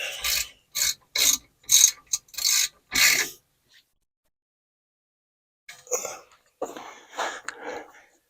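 A 3/8 inch drive ratchet clicks in quick bursts while tightening the rear brake caliper bolts on a Sprinter van, close and crisp, several short strokes followed by a pause and a few softer rasping movements.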